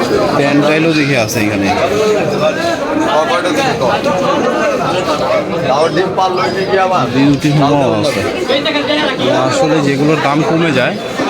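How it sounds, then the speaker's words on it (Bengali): Pigeons cooing amid the steady crowd chatter of a busy village pigeon market where young pigeons are sold, with people talking loudly and continuously over the birds. "এখানে সব জায়গায় কবুতরের বাচ্চা দেখা যায়"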